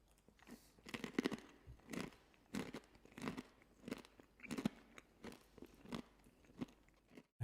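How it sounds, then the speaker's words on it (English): Crunchy edamame seasoned with spice and garlic being chewed up close, with distinct crisp crunches in a steady chewing rhythm and quiet gaps between bites. "Nice and crunchy edamame. Has a nice amount of spiciness."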